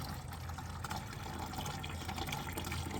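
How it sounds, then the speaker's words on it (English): Windshield washer fluid drains and glugs out of a Toyota Corolla's washer reservoir as a quiet, continuous liquid trickle and gurgle, heard up close without speech. "Let's let that glug out."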